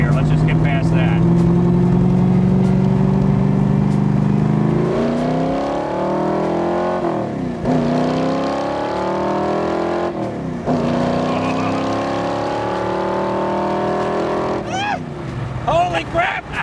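A 1965 Backdraft Cobra roadster accelerates at part throttle, its loud engine note climbing in pitch through a series of gear changes, rising and dropping repeatedly as it gathers speed.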